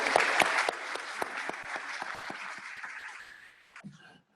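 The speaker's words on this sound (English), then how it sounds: "Let's give the young people another round of applause." Audience applause for young people at a Rockdale County Board of Commissioners meeting: dense, steady clapping from a room full of people that thins and fades out near the end, followed by a brief low thump.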